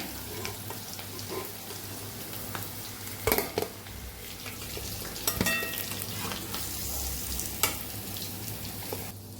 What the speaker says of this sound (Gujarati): એકદમ સરસ ક્રિસ્પી ઉપરથી થઈ જાય ત્યાં સુધી આપણે તળવાના છે